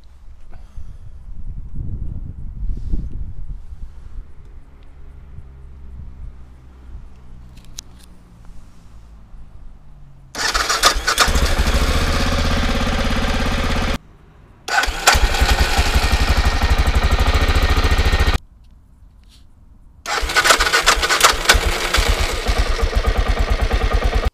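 Aprilia Pegaso 650 motorcycle with a faulty starter clutch: after a quiet stretch, three loud bursts of starter and engine noise ring out close by, each cut off abruptly by short silent gaps.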